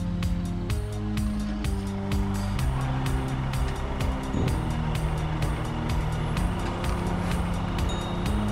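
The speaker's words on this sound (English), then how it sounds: "There's a fire truck trying to get through the snow here and can't make it." A fire truck strains to get through deep snow on a Brooklyn Heights street during the 2010 blizzard, its engine a steady, loud rumble with a continuous low drone and repeated sharp clanking ticks over it.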